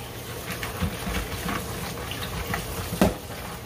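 Crab steeped in squeezed lime is rinsed under a running kitchen tap, a steady moderate stream of water splashing into the sink with a small clatter near the end.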